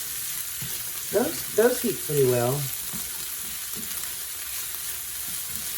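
Onions sizzle and fry steadily in a stainless steel pot for a pot roast braise, a soft continuous hiss heard close, with someone speaking briefly over it.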